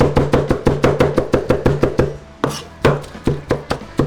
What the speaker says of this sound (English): using my cleaver here, and we're just chopping this up